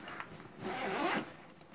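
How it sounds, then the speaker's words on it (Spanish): The side zipper of a HUKOER camping backpack is pulled open in one close, soft rasping run lasting under a second, over quiet room noise. "Y entra la cremallera aquí, ¿vale? Es para abrirla por el lateral."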